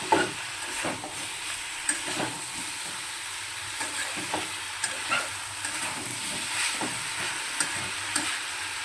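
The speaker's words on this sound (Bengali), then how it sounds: "ভালো করে এখন নাড়িয়ে চাড়িয়ে দেবো।" A pork curry with potatoes is stirred in a frying pan: a constant sizzle broken by repeated spoon scrapes and knocks every second or so, close and with no speech.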